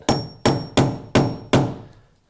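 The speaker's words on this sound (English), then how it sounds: "you can just take a nail set," Five sharp, evenly spaced hammer strikes drive a nail set into wood while building a wooden countertop. Each ringing blow is close and loud and decays quickly before the next, with no speech.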